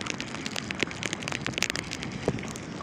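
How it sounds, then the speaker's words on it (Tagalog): Heavy rain at sea patters densely on a nearby surface, a steady hiss broken by sharp individual drop hits. "Walang humpay ang ulan."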